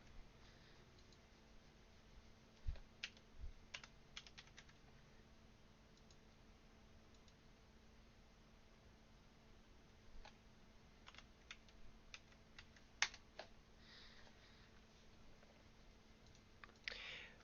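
Password keys tapped on a computer keyboard during an Ubuntu 20.04 login, faint scattered clicks and a few sharper taps over a quiet background hum.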